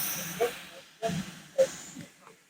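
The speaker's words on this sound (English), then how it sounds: "It's blowing off a bit of steam there." Steam locomotive Hercules, British Railways engine number 4277, blowing off steam at an old-fashioned station: soft, breathy hissing with three or four distinct gusts swelling and fading, fairly quiet and heard at a modest distance.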